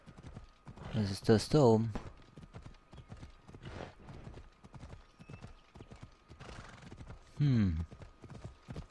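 Horse hooves clip-clopping steadily as a rider travels along a road in the video game Assassin's Creed Odyssey, with a couple of whinnies rising above the gait and someone talking briefly in German.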